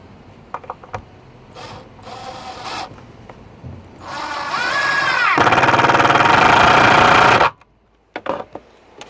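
Screws driven into a wooden front table during a self-build Renault Master campervan fit-out: short ratcheting bursts build into a loud, sustained high-pitched driver whine that cuts off abruptly, followed by a few clicks.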